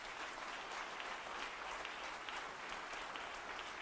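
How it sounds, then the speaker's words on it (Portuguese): A church congregation applauds, producing steady, even clapping from many people, moderately distant and continuous throughout. "Vamos aplaudir ao Senhor Jesus."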